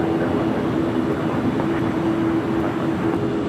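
Heavy jet airliner passing at LAX, a steady loud roar with a strong sustained whine, constant in level throughout with no talk.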